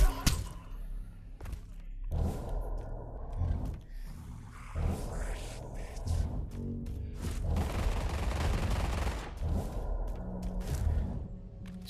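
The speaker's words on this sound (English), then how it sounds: "detonate the C4" C4 detonation in the video game Pavlov, in a shack map, heard as several heavy booming thuds and bursts spaced across the stretch, with noisy rumbling blasts and no talk.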